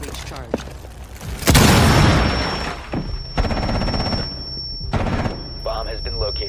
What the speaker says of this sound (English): Setting breach charge.